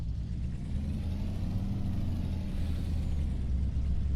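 A nearly full truck lumbers across a farm field, its engine a steady low rumble with constant broadband drone throughout, moderately loud and unbroken, no voices.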